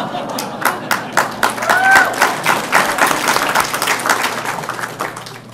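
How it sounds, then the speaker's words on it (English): A town hall crowd gathered for nurses and community healthcare breaks into loud, sustained applause, many hands clapping close and dense for several seconds, with a voice briefly heard among it. "let's give the nurses and let's give, you know, our community a big round of applause"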